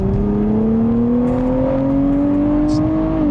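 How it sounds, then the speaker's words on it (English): A 2023 Nissan Z's V6 engine pulls hard up a freeway on-ramp, a steady, loud rising drone climbing smoothly in pitch under continuous wind and road roar, with no talking. "This is a very good sounding V6."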